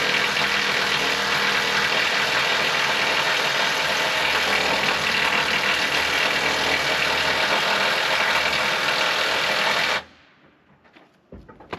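A Mitsubishi Delica van imported from Japan idles steadily with a loud, even mechanical clatter for about ten seconds, then cuts off abruptly into near silence.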